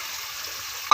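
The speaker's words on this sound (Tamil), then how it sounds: "இப்போ அப்படியே நம்ம மட்டனை சேர்த்துடலாம்." Mutton goes into a hot pan for biryani with a steady, bright sizzle of frying. A sudden louder burst of spitting comes right at the end, and no voices are heard.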